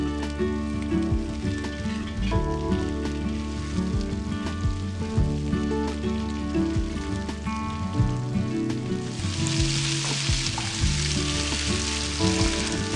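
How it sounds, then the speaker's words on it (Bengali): Onions and mixed winter vegetables fry and sizzle in a pan while being stirred, a steady close crackle throughout with clattering stirring and a brighter hiss swelling near the end. "এবার অ্যাড করুন পেঁয়াজ, দিয়ে অল্প একটু নাড়িয়ে নিন।"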